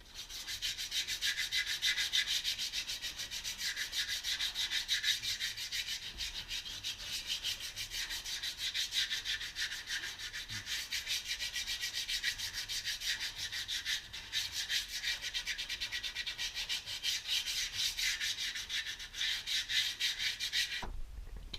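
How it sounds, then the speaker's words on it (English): The edge of a rear brake pad is sanded by hand, giving a continuous dry, rasping scrape of even strokes that runs close and steady with no talking. "So I just sanded this edge."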